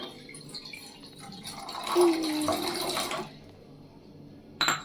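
Water poured into a pan on the stove for lemon tea, heard as a short gurgling splash of about a second and a half, followed by a faint clink near the end; quiet room, no speech.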